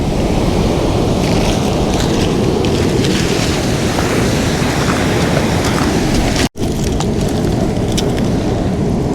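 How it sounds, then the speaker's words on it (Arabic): Sea waves breaking close by on a rocky Moroccan shore during shellfish gathering, a steady loud wash of surf with no pause except one brief dropout partway through. "تصور البحر راه كيضرب حدايا"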